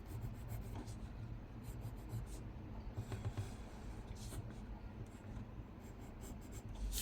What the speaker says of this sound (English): Just try to line it up and draw again.